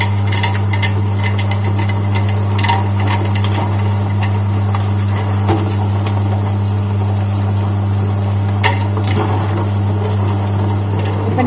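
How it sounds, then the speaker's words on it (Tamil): A wet grinder churns idly batter with ice cubes added, a steady, loud motor drone with a low hum that runs throughout, overlaid with faint ticking and rattling from the grinding stones, with no voices. "இப்போ நம்மளோட ஐஸ் க்யூப்ஸும் அந்த கிரைண்டரோட சேர்ந்து நல்லா அரைஞ்சிட்டு இருக்கு"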